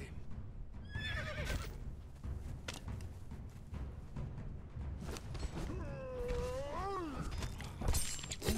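A horse in the video game Conan Exiles whinnies loudly in a long, rising and falling call, amid thumping hooves and clattering combat sounds.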